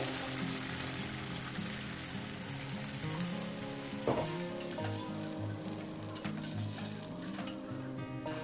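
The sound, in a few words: potatoes frying with spice masala in a pan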